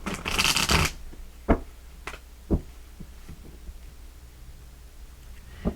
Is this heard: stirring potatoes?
no